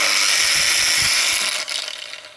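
An angle grinder fitted with a Sigma Jolly Edge slider cuts a bevel into ceramic tile, making a loud, steady high whine that drops off slightly near the end.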